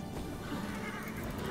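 A horse mount in the Heroes of the Storm video game neighs amid dense game effects and background noise, one short whinny standing out near the middle of the brief moment.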